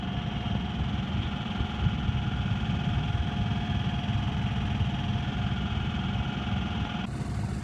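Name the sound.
sailboat Gecko motoring under engine power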